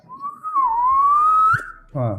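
A person whistles by sucking air in rather than blowing out, producing one long, clear, gently rising tone up close, followed by a short bit of talking.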